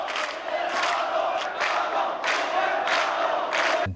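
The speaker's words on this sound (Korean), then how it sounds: "명동성당 앞으로 몰려나온 직장인과 시민들이 외치는 함성은 거대한 파도를 이루었다" Office workers and citizens massed in front of Myeongdong Cathedral during the June 1987 democracy uprising roar in rhythmic protest chants, a huge crowd shouting in repeated surging waves over a steady background din.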